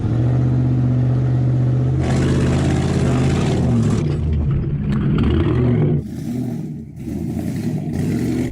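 A Hummer H2 or Hennessey Mammoth powers around a short off-road course with a hairpin, its big engine roaring loud and close, rising and falling with revs before easing off near the end.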